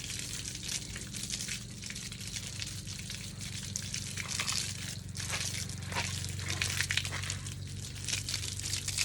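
Water sprays from a hose onto a muddy bicycle during cleaning, a steady, close, hissing gush with splashing that runs on without pause and without talking.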